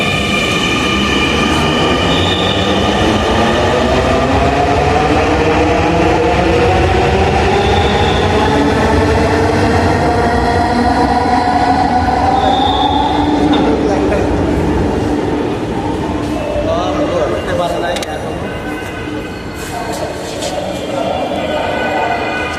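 A train pulls into a crowded station on a cold morning. Its rumble and screeching wheels are loud and close throughout, with a long descending squeal as it slows and crowd noise underneath.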